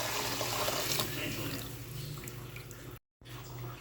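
Broth poured from a pan into a dish of cooked chicken feet, a steady splashing liquid pour up close, with a brief break near the end before it resumes.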